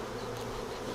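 A dense, steady buzz comes from many honey bees crowded at an opened hive being smoked down, close and continuous with no pauses.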